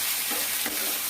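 Carrots and onions stir-frying in a pan for a South Indian carrot poriyal, a steady close sizzle with two brief scraping stirs, no talking.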